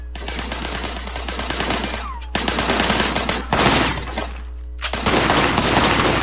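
Loud gunfire in the video game Sleeping Dogs, rapid automatic bursts in several close, dense volleys separated by short gaps, with a low engine-like hum underneath.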